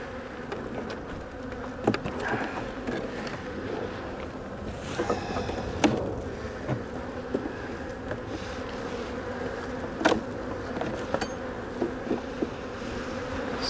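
A small, weak swarm of honeybees in a tiny hive with wax moth damage gives off a low, steady buzz, with occasional clicks and knocks from handling the frames and no talking.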